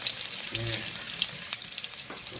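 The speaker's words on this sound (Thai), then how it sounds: "ตั้งกระทะร้อนเรียบร้อยครับ ก็ ใส่กระเทียมบุกรลงไปนะครับ" Loud, close frying: a steady crackling sizzle of crushed garlic in a hot pan, with a brief low voice murmuring in the middle.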